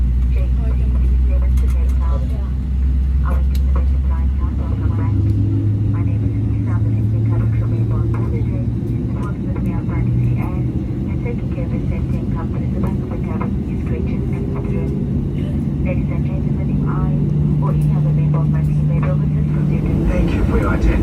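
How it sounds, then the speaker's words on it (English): Mango Airlines airliner pushing back before a short flight to Cape Town: steady loud engine and ground rumble throughout, with a low droning hum that shifts pitch, heard from inside the cabin under occasional voices. "we pushed back ready to start the short flight down to Cape Town"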